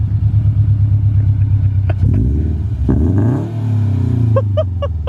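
A Toyota 86 with JDL UEL headers and an Invidia N1 catback exhaust cranks and catches, then idles roughly before revving up loudly and dropping back, with a few sharp pops near the end.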